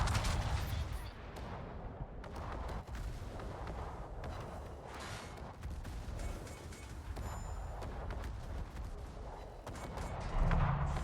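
Video game gunfire and artillery in a naval battle, dense booming shots and rumbling blasts layered over each other, loud and continuous with voices partly mixed in.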